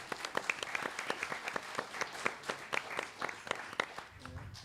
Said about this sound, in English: Now I know that you can applaud